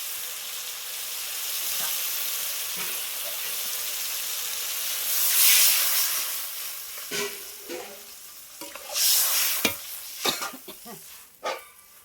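Potatoes fry in spiced masala for a bitter gourd, potato, brinjal and fish curry, with a steady sizzling hiss swelling into a burst of steam, followed by close scraping stirs and clanks of a spoon on the pan.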